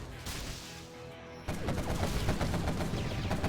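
Quad cannon fire in a real-time strategy game bursts out as dense rapid automatic shots, quieter at first then erupting into a loud continuous fusillade mid-way, with no voices.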